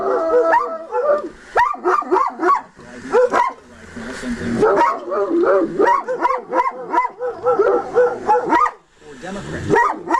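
Puppies yip and bark in rapid, overlapping bursts, with high whimpers mixed in, close and fairly loud throughout.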